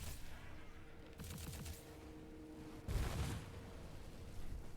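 Rocket fire in the video game Immortal: Unchained, with two bursts of rapid launches and booming blasts, the second heavier, set against a steady hum of game ambience.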